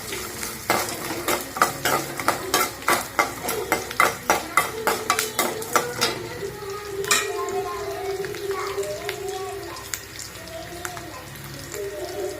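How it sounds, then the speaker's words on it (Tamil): Garlic sautéing in a pan for a tamarind curry, a spoon scraping and stirring in quick rhythmic strokes for several seconds, then a softer steady sizzle with occasional clinks. "பூண்டு நல்லா வதக்கி விடுங்க."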